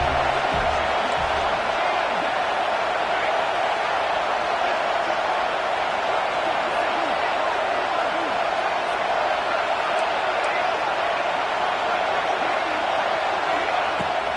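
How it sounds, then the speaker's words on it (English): A football stadium crowd roars on a third-down play in the red zone, a dense, continuous wall of cheering noise that stays loud and unbroken throughout. "Third down play in the red zone, and this crowd is at fever pitch."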